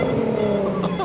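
A Nissan Z sports car engine drones steadily and loud as it drives under a bridge, a sustained tone with a slight rising rev near the end.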